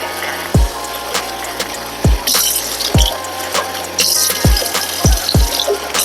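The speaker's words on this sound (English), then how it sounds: "let's add some water to this bowl, and then we're gonna mix it." Water poured into a mixing bowl in a home kitchen, a near trickling pour broken by repeated low gurgling glugs, with no talk.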